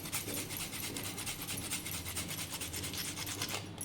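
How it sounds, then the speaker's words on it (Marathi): Fresh ginger grated by hand over a bowl gives quick, rhythmic rasping strokes, close and steady for a few seconds. "थोडं आलं बघा किसून याच्यामध्ये ॲड करते"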